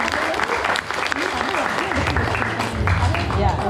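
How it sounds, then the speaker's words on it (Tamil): Audience at a Tamil school event in Lelystad gives a big round of applause, steady dense clapping with crowd murmur and voices mixed in, growing slightly louder toward the end. "நம்ம அஜித் ஆசிரியரோட வரவேற்புரைக்கு பெரிய கைத்தட்டலோட நாங்கள் வரவேற்போம்."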